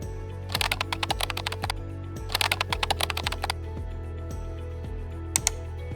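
Quick clicks on a computer keyboard as a search query is typed, arriving in two short, rapid bursts of keystrokes with a pause between them and a couple of faint taps at the end.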